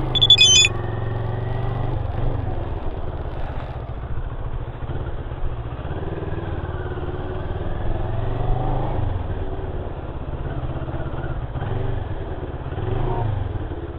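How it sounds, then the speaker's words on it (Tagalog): A motorcycle engine runs close by with a steady low rumble and idle, lifting slightly in RPM at intervals as the brake is squeezed, with a brief clatter at the start. "Pag pinipiga ko yung preno, ayun, nag-accelerate siya, tumataas yung RPM."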